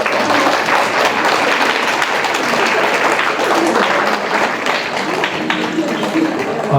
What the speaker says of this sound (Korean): 원래 이렇게 할 때 박수를 먼저 쳐주시거든